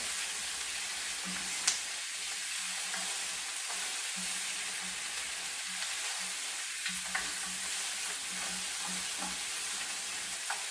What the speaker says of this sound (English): I'm going to stir the rice